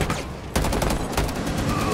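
Rainbow Six Siege gunfire, a loud, close burst of rapid automatic shots that runs almost continuously across the short moment, with a player's voice faintly mixed in.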